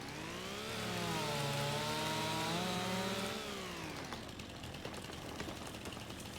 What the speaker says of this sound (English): the wood is all rotten because the chainsaw goes through it like butter